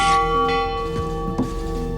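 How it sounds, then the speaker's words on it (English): The Titanic's brass ship bell is struck by an iron clapper: one loud, clear strike rings into a long, sustained metallic hum, with a fainter second tap near the end. "The brass body, when struck with the iron clapper, made a loud noise that could be heard at great distances."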